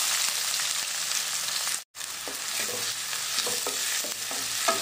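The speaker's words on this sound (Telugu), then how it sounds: "ఇప్పుడు ఉల్లిపాయ పచ్చిమిర్చి వేసి ఫ్రై చేసుకుందాం." Onion and green chillies frying in hot oil while being stirred, a dense continuous sizzle with scraping spatula strokes. It breaks off for a moment of near silence, then resumes with clinking stirs.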